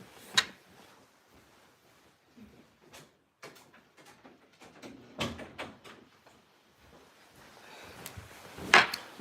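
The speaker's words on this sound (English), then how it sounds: "So let me close my door really quickly." An indoor door at home being shut, with a series of scattered knocks and clunks, the loudest at the start and a sharp bang near the end, fairly close with quiet gaps between.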